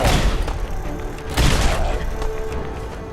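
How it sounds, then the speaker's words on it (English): Grenades going off in Fallout 4 Far Harbor, two heavy booming blasts about a second apart with rumbling tails amid ongoing combat noise. "Pitch the grenades! Pitch them all!"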